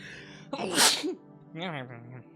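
A single loud, close sneeze with a sharp burst of breath, followed by a faint vocal sound afterward.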